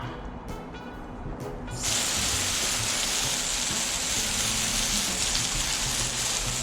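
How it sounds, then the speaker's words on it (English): A garden hose starts spraying after a few quiet seconds, producing a loud, steady hiss of water hitting grapes close by. "I'm just gonna spray them down with the hose"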